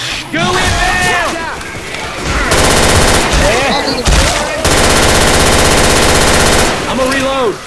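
Dense automatic gunfire from the zombie shooter Left 4 Dead 2, long rattling bursts from close range with brief gaps between them, while players talk and shout over the shooting.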